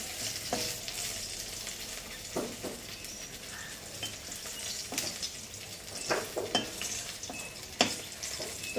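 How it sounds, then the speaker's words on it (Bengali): Quiet, steady sizzling of fish frying in a pan, broken by occasional scrapes and taps of a utensil, with no speech. "এদিকে মাছটা ভাজা হয়ে গেছে"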